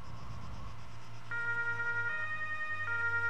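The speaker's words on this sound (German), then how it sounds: "Er hat sogar Sirene." A wailing police siren from a vehicle in the video game Arma 3 Altis Life, rising in as a steady two-tone electronic warble after quiet engine rumble, moderately loud and with no talk.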